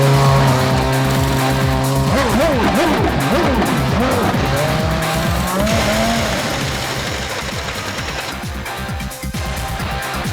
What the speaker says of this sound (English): As the car comes in, the guy to my right grabs the wheel as the car stops.